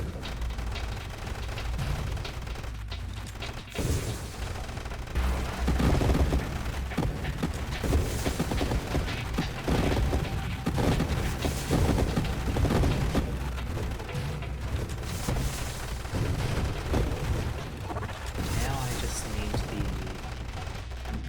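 Dense, continuous gunfire and booming blasts from mortar and cluster mine weapons in the space shooter game Nova Drift, loud rapid bursts layered throughout, with someone talking over the action.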